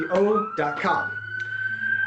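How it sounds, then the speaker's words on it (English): Emergency vehicle sirens pass through the city streets of Hartford, a steady high wailing tone holding behind someone speaking in the foreground. "And right here in Hartford, we have some sirens coming through."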